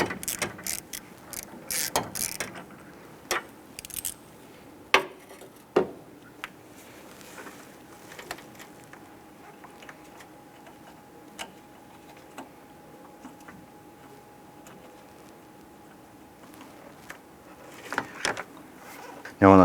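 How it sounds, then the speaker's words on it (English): A ratchet on a 15/16 deep socket with an extension works loose the pressure switch atop the A/C condenser unit of a 2008-2013 Nissan Rogue, giving scattered close clicks and tool knocks, mostly quiet between them. "Using a 15/16 deep socket extension and a ratchet, let's go ahead to the top of that unit here."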